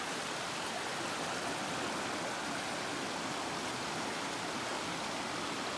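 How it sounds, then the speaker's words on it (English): Steady rushing water of the Rattle River on the Appalachian Trail flows close by, a continuous broadband hiss and gurgle with no voices or breaks. "This is the Rattle River that I tented by last night."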